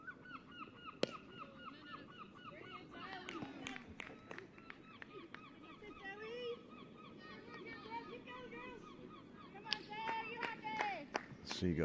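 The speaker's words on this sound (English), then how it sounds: "Seagulls still making their evening noise." Seagulls give evening calls over a club cricket match, a series of squawking cries that grow busier toward the end, heard under ongoing commentary and distant crowd sounds.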